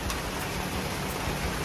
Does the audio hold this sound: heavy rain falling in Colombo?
yes